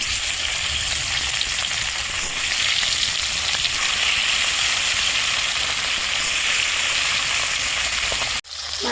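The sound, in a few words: bata fish frying in white oil in a wok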